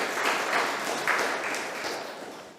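Audience applause at a women's meeting session in Yelagiri, Tamil Nadu: steady, dense clapping from a crowd, fairly close and continuous throughout with no talk over it.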